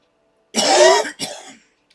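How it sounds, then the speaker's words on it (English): A single harsh cough, close and loud, followed by a shorter second cough, then quiet. "I'm coughing and I need some hot something"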